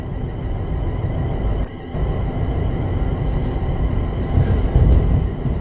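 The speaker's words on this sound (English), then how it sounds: "This train is a Class 350/1 electric multiple unit, manufactured between 2004 and 2014, and is part of the Desiro family." Class 350/1 Desiro electric multiple unit running in Train Sim World 5, a steady loud rumble of motors and wheels on rail throughout, with a brief dip in the middle and no speech.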